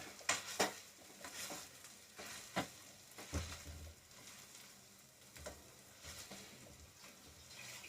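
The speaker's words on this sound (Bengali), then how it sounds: "আলুটাকে স্ম্যাশ করে দেবো, ঠিক এইভাবে।" Boiled potatoes are mashed with a hand tool in a frying pan with fried garlic, giving irregular close thumps, scrapes and soft sizzling, loud bursts at first and then quieter steady working, with no talking.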